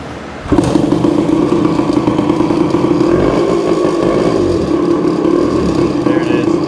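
A Suzuki TC-90 motorcycle engine catches and runs steadily at close range, a loud continuous rumble with some rattling, after a brief quieter moment at the start; someone talks over it.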